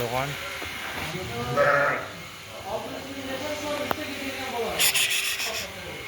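Sheep, including a breeding ram, bleat several times at a livestock market over a rustling, rubbing background, with people talking nearby.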